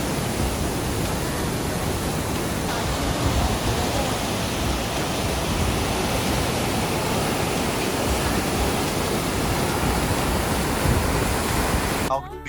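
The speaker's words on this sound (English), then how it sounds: "See the flow of water gushing down." Water gushing through the Needle Dam in Lucerne, Switzerland, a loud, steady roaring rush heard up close for the whole stretch, unbroken and without talking.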